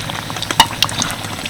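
A banana-leaf-wrapped snack frying in a pan, giving a soft, steady sizzle with a few sharp pops and crackles nearby.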